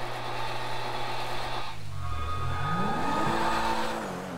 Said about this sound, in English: Oh yeah, listen to how souped up that sounds.